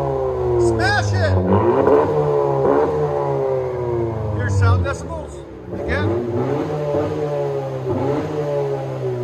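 A 2019 Honda Civic Si Turbo with its muffler deleted revs hard in repeated loud rising bursts, the raspy exhaust close by, with people talking and reacting over it.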